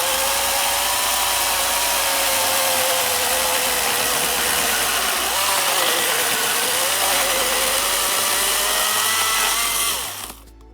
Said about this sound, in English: you can go take a chainsaw and slice a sliver off of the log